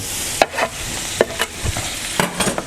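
Onion and garlic sizzling in butter in a pan with a few sharp clicks and scrapes as they are stirred, steady crackle underneath, close and fairly loud, no voices.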